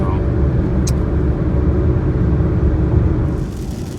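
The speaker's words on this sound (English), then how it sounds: "We're driving through Ohio," A car drives on an Ohio road in rain, giving a loud, steady, close rumble of engine and tyre noise that lasts throughout, with a brief higher whoosh near the start and a slight easing at the end.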